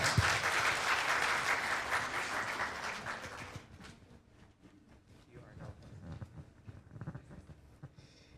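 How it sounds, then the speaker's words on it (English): An audience applauds a speaker at a Filipino American History Month celebration, a dense burst of clapping that fades after a few seconds into quieter room noise and scattered sounds. "Now let's give him a big round of applause as he shares some remarks."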